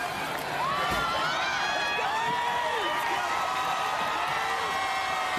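A large arena crowd at an American Ninja Warrior qualifying event in Baltimore cheers and whoops continuously, a dense steady roar of voices and shouts.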